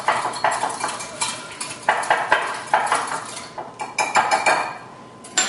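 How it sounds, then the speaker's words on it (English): Batter with vanilla whisked in a bowl for shortcake, a close, busy run of rhythmic metallic clinks and scrapes in short bursts, with no talking. "And you're going to whisk this together real nicely"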